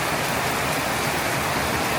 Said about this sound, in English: It rained so hard yesterday, and not as hard as today